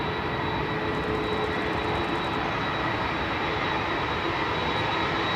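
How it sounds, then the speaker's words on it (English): An Airbus A330-300's CF6 jet engines roar continuously at close range at Manchester Airport, with a thin, steady high-pitched whistle riding above the broad rumble. "330-300 with its classic sounding CF6 engines. You hear that high pitched whistle."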